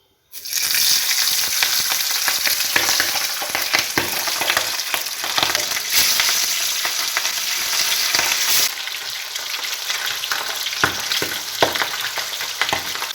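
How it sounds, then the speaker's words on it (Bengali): Pabda fish fries in hot oil in a pan, a loud, close, continuous sizzle with crackling pops and occasional scraping of a utensil, no talk. "তেল গরম হয়ে গেছে এবার মাছটা ভেজে নেবো"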